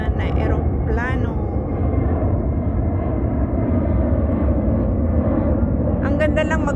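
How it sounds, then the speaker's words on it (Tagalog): A jet airplane taking off at night, heard as a loud, steady broadband roar that holds for the whole stretch while people talk over it. "Nag-take off na naman na eroplano"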